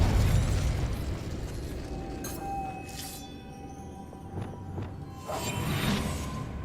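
Spell effects in Hogwarts Legacy: Confringo, Incendio and Compulso cast in turn, giving a muffled opening blast followed by whooshing, crackling bursts and sharp pops against a low rumbling backdrop.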